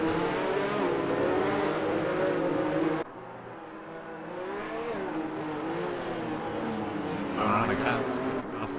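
Race cars at Monaco in a racing video game, engines revving and whining through acceleration and gear changes, a dense layered roar that dips abruptly before building again, with commentary-style talk mixed in.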